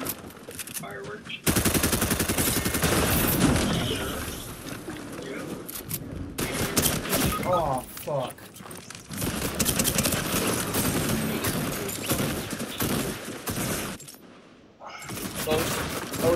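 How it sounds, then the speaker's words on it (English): Fortnite fireworks crackle and pop in rapid bursts, loud and dense like gunfire, with brief pauses between volleys and players talking over the noise. "Fireworks."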